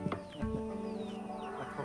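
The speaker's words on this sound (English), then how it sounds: "He was crowing." A rooster at a homestay in Ubud, Bali crows once, fairly faint and a little distant, over low background sounds.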